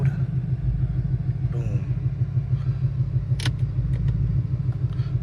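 Low, steady engine rumble from a Shelby GT500 while driving, filling the cabin with a throbbing drone, with a few brief clicks and knocks over it and a short spoken word partway through.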